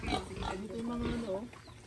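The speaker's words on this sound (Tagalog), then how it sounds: "dito nag-aalaga ng baboy si Krista." Pigs on a small farm grunting in short rough bursts close by, mixed with talking voices over most of the moment.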